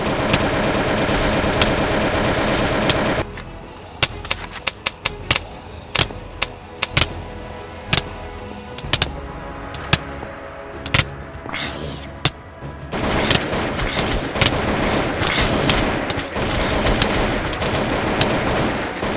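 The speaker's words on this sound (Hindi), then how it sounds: "हमने स्पेशल वेपन से उन पर फायर किया।" Special-weapon gunfire at zombies in the Minecraft video game: loud sustained rapid fire at the start, then scattered sharp single shots, followed by dense continuous bursts toward the end.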